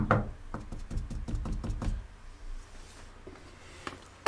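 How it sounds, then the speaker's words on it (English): Repeated knocking at 30 East Drive, about a dozen sharp knocks in a quick irregular series for the first two seconds, then quieter room sound with a couple of isolated thuds. "Sounds like multiple knocking."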